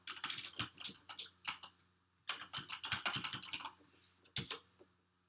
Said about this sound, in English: So enter my password now